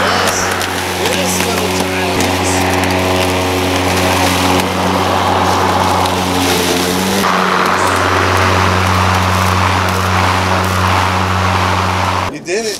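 Ryobi 20-inch 40V battery-powered electric lawn mower running steadily with an even motor hum and whirring blade, close and continuous, under ongoing talk, cutting off abruptly near the end.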